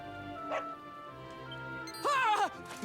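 A dog in the video game Dragon Quest XI gives short yips and bow-wow barks, a brief one early and a louder pitched pair near the end, over a quiet game music bed.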